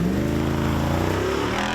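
The V8 engine of a Jeep Wrangler 392 pulls hard under acceleration, a loud, close, continuous rumble that climbs steadily in pitch, with no talking over it.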